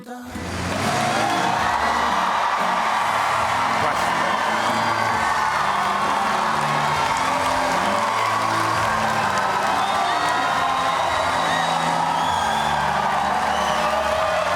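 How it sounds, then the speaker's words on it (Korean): A large crowd at a live comedy show erupts into sustained applause and cheering with whoops, a loud dense roar of clapping that rises sharply and holds steady throughout. "진짜 뭐 박수함성 소리 들어보니까 되게 많이 기다렸다는 것 같은 느낌을 받았네요."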